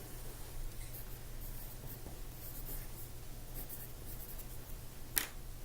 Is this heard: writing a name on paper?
yes